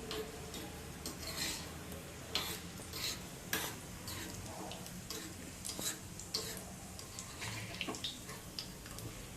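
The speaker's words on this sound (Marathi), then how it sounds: "तूप गरम करत ठेवले आहे, त्यात आपण काजू बदाम फ्राय करून घेणार आहे" Cashews and almonds frying in hot ghee in a pan, a soft crackling sizzle under repeated light clinks and scrapes of a spoon stirring against the metal, close and fairly quiet.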